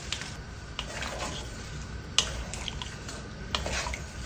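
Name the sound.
stirring beef in a cooking pot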